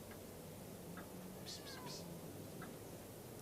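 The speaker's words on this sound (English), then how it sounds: "They're very sensitive, you know, cats." A cat gives a few short meows in an indoor scene, faint and close together, with quiet room noise and speech around it.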